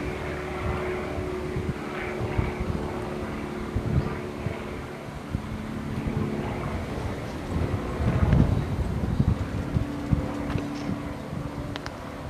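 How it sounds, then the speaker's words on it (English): Gusty wind buffets the microphone in uneven rumbling bursts, with a faint mechanical drone in the background, on the platform at Hassocks railway station. "It's very windy at the moment."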